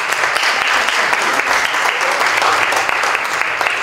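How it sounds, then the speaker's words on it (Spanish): A school audience claps in welcome for a guest at a history lecture, steady dense applause filling the room throughout with no pause. "Un aplauso de bienvenida."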